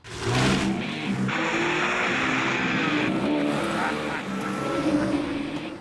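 A convertible car drives along with a loud, steady rush of engine and road noise that swells slightly and never breaks off.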